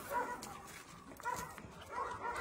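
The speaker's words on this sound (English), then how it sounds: "She's a very cute puppy." A small female shelter puppy, expected to reach about 14 to 15 kilos, gives faint, brief barks and whimpering yips scattered through a quiet indoor scene.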